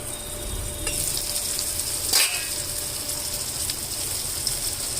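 Eggplant and tomato curry simmers in a covered pan, giving a steady soft sizzle and hiss with one brief clatter near the middle.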